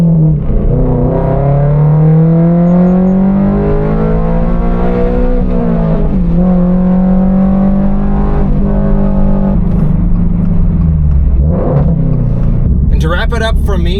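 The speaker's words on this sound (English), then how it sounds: "Here's the final sound you get with a full exhaust." Toyota GR86 with an unequal length header and AWE touring full exhaust, a loud close engine note rising and falling through several revs with a rumbling burble, while a voice talks over part of it.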